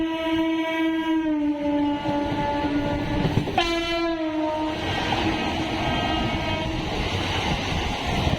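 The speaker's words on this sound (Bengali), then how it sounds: "এই হলো বালি রেলওয়ে স্টেশন।" A train at Bally railway station sounds a long, loud horn that breaks off briefly and resumes, over the continuous rumble and rattle of rolling wagons, with no one speaking.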